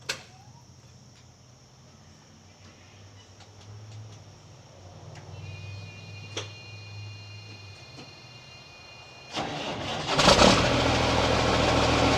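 A Freightliner Classic truck fitted with new exhaust stacks idles quietly with a low steady rumble and a few knocks, then the engine fires up near the end into a loud, rough roar.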